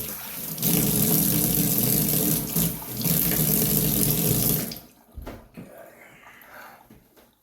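Tap water runs hard into a sink while a razor is rinsed after a shave, a loud steady gush for several seconds that cuts off, leaving a few small drips and clinks.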